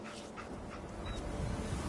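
A dog whimpering in the Fallout 4 video game, a soft, steady whine heard alone and close against a dense hum of game ambience.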